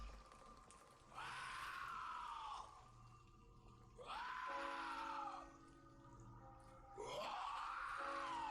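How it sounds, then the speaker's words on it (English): A screaming, moaning lunatic in the Vampyr video game lets out three drawn-out, wavering wails, each lasting about a second and a half, repeating every three seconds over a low, murky ambient drone. "Another screaming lunatic."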